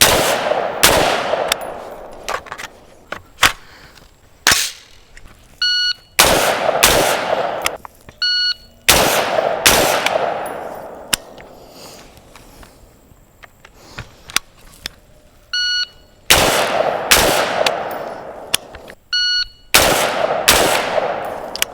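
Daniel Defense DDM4V7 AR-15 rifle firing at a range: loud, sharp gunshots in quick pairs and short strings, each with a bright crack and decaying echo, plus faint electronic beeps between shots.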